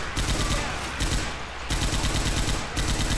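Rapid automatic gunfire in the Left 4 Dead 2 video game, loud dense bursts rattling almost without pause, with one short gap midway before the shooting resumes.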